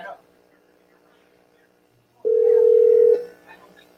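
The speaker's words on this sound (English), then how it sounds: "your phone's ringing" After near silence, a single steady electronic phone tone sounds for about a second, clear and fairly close.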